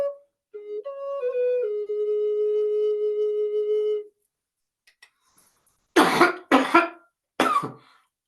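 A person coughs three times close up after a sustained hummed or sung tone fades to silence, the coughs coming as short harsh bursts, caused by a tickle in the throat.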